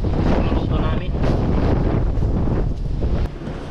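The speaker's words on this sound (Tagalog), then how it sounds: "lakas ng hangin" Strong wind buffets the microphone with a loud, continuous roar and gusty rumble at an outdoor cooking spot, steady throughout with slight dips.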